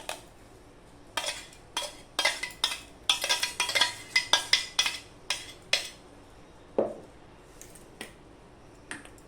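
Mango paste is poured into semolina and stirred in a pot, a run of sharp spoon clinks and scrapes against the metal, clustered in a busy middle stretch then thinning to scattered taps, close with no talking.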